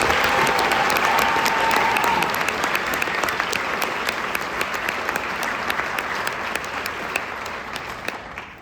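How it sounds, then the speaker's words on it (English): A concert audience gives loud, sustained applause for student jazz performers at a district jazz festival, with dense clapping that continues for several seconds and fades gradually near the end. "Would you please give them once again a round of applause?"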